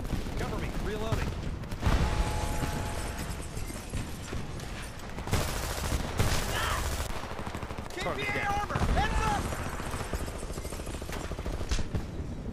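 Gunfire in Homefront video game multiplayer on PS3, with dense bursts of automatic weapon fire and scattered single shots, loud and continuous throughout amid other game noise and occasional voice chatter.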